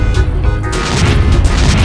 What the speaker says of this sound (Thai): โอ้ยระเบิดไปเลย